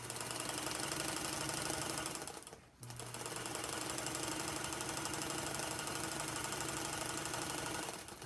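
Featherweight sewing machine stitching steadily up close, a rapid even mechanical whir that breaks off briefly partway through, then resumes and runs on.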